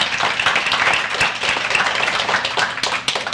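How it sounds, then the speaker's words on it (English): An audience at a talk on psychology breaks into continuous applause. The dense, even clapping stays loud and steady throughout, with no voices rising above it. "Give her a big round of applause."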